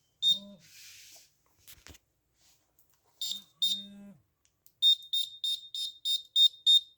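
High electronic buzzer beeps from an Arduino assistive blind stick sound a couple of times, mixed with brief murmurs and clicks, then a rapid run of loud, evenly spaced beeps.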